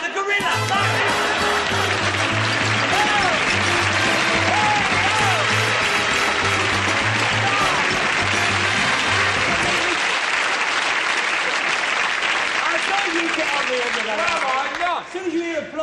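A 1970s television game show studio audience bursts into sustained, loud applause mixed with laughter and cheering, continuing steadily for many seconds while voices talk and a host's voice rises over it.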